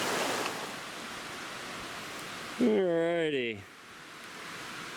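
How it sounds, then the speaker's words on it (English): A wilderness creek in the Cranberry Wilderness flows as a steady broadband rush throughout, with someone briefly speaking over it partway through. "Got the old creek right there."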